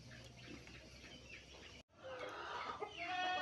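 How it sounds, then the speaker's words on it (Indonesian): Birds chirp and call over outdoor background noise in clear, sunny weather, with a rooster-like crowing and clucking emerging after a brief cut. "Langit cerah, suara burung-burung berkicau itu."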